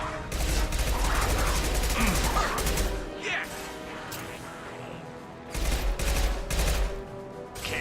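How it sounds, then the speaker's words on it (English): Rapid bursts of impact-shot gunfire in the sci-fi shooter Mass Effect 2, loud close volleys of sharp repeated shots in two clusters separated by a brief lull, with battle noise between. "Firing an impact shot!"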